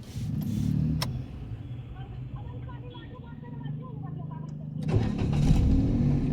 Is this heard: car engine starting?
yes